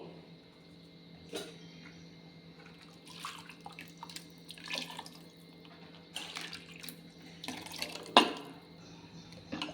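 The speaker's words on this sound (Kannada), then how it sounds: "ಈ ಜಾರಿಗೆ ನೀರು ಹಾಕ್ಕೊಂಡು ಹಾಕ್ಕೊತಾ ಇದ್ದೀನಿ" Water is poured into a mixer jar holding ground paste for okra sambar, giving a faint, uneven series of splashes and drips over a low background hum. The louder bursts come toward the end.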